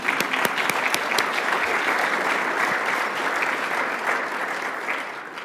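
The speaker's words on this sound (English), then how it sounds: "I think another round of applause." Audience at a Canadian Club Toronto event marking Dr. David Suzuki's 90th birthday applauding, a sustained full round of clapping with a few sharp claps standing out early, tapering slightly near the end.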